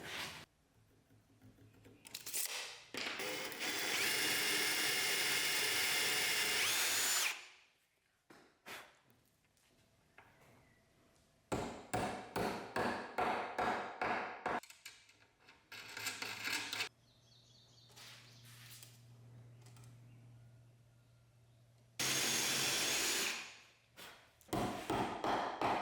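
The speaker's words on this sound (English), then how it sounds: "So I'm gonna drill the hole and then hammer this in" A power drill bores a hole in a wooden outdoor chair part before a piece is hammered in. The drilling comes in several loud, close bursts of a few seconds each, separated by quieter pauses with faint handling taps.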